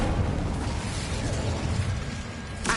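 A fiery Incendio spell blast from the video game Hogwarts Legacy, a steady roaring, crackling rush of flame that sustains loudly throughout with a sharp burst near the end.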